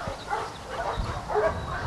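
A service dog at a working-dog multi-sport championship gives a few short, close barks and yips in quick succession, moderately loud against faint background noise.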